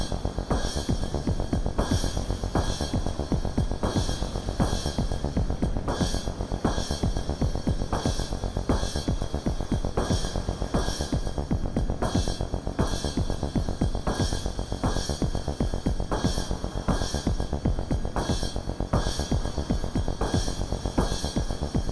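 An Afterneath Eurorack reverb module with drag removed gives a steady, rhythmically throbbing wash of long reverb tails, pulsing evenly at a moderate level throughout.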